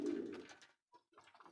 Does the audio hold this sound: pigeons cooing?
yes